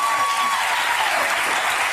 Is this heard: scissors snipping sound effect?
no